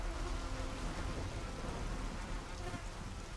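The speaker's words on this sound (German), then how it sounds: "Ja, es regnete in der Stadt." Steady heavy rain pours over a city in God of War III Remastered, a dense continuous hiss that fills the whole clip at an even loudness with no voices.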